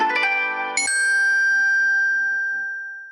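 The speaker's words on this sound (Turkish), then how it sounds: "Telefonuma sürekli gelen şeyler. Bildiri geliyor." Short chiming phone notification tones, a quick cluster of bright dings followed by one clear ring that lingers and slowly fades, alone with no talk.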